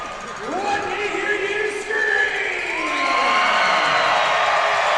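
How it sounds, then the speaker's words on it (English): Hockey crowd at McMorran Place arena in Port Huron swelling into loud cheering and whoops, a steady roar with excited shouts rising over it throughout. "Crowd getting loud here for an offensive zone draw in Danbury territory"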